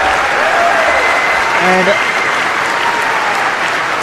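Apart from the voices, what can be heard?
crowd applauding after a grappling match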